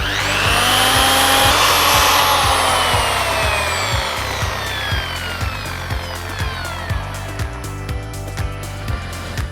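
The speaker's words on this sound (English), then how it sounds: "What I'm looking for is making sure the factory lines are sanded down." A power sander whines against a Kawasaki Z750 motorcycle mag wheel in a garage, its pitch sweeping down as it slows, then steady regular ticking pulses as the wheel turns under the abrasive.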